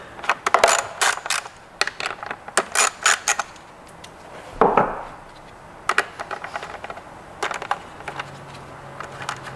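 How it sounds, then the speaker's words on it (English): An 8mm socket on a ratchet removes the two bank angle sensor nuts on a 2013 Honda CBR600RR motorcycle, close bursts of quick metallic clicking and rattling, separated by brief pauses and one duller clank, with no speech. "Go ahead and use your 8mm socket and remove those."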